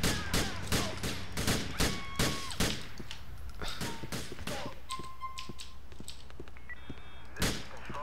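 Gunfire from a shooter in LCPDFR, a police mod for GTA IV: a rapid run of sharp, loud shots over the first few seconds, then scattered, fainter cracks and a final close shot near the end.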